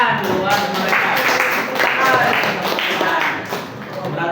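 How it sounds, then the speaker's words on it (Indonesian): Students in a high school classroom clap together for classmates, a dense, steady patter of many hands sustained for several seconds, with voices mixed in beneath it. "Tepuk tangan buat mereka."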